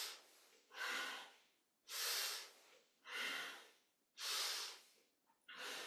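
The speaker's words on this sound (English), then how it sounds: "you're breathing and moving as deeply as the lungs will allow, as deeply as the spine will allow" Deep rhythmic breathing during a kundalini yoga kriya: five long, forceful breaths alternate in and out about once a second, each a loud, close, airy rush with short quiet gaps between.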